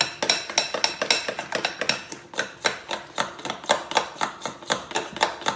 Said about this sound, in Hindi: अब हम इसे अच्छी तरह एक ही डायरेक्शन में स्टर करेंगे।